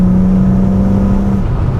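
A BMW E36 M3 fitted with Supersprint manifolds and exhaust holds a steady, loud engine note with a strong low hum and deep exhaust tone, close by and alone, easing slightly near the end.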